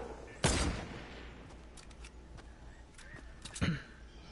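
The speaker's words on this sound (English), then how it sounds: "Who's shooting?" Gunfire in the video game Fortnite rings out in a few bursts, a strong nearby shot near the start and another later, with faint scattered pops between over a quiet game background.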